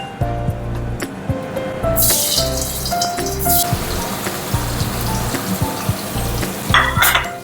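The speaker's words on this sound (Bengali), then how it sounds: "পনিরটা আগে ভেজে নিই।" Large cut pieces of paneer frying in hot oil in a pan, loud continuous crackling sizzle with bursts of spattering and occasional utensil clinks, no speech.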